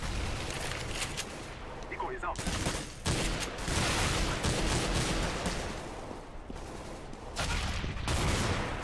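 Gunfire in Counter-Strike: GO, with sustained, loud automatic weapon bursts and shots filling the clip and breaking off briefly a few times, with speech also present.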